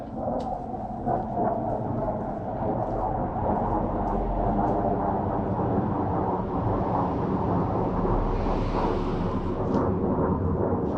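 Loud, sustained roar of an F-16 fighter jet rumbling overhead at night, swelling slightly with a hiss of higher noise as it passes, no talking.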